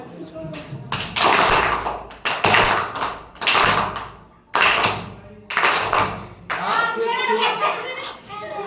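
Students clap together in time with a swinging pendulum, giving several loud unison bursts of claps separated by short pauses, with children's voices and chatter between and under them.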